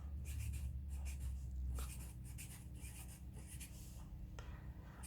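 Pen writing on paper, close soft scratchy strokes in short bursts of scribbling with brief pauses, quiet and alone.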